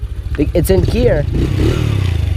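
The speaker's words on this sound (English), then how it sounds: "the throttle doesn't do anything, it just revs up" An ATV engine revs up and holds a steady drone while in gear with the throttle not engaging drive, with a person talking over it at the start.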